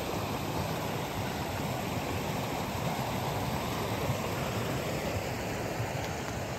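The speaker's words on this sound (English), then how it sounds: "You can sit under these waterfalls and let it hit your back and just relax." A waterfall pours steadily into a swimming hole at Chipmunk Falls, a constant broad rushing roar that stays even and fairly loud throughout, with no voices.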